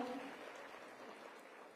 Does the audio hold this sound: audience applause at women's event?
yes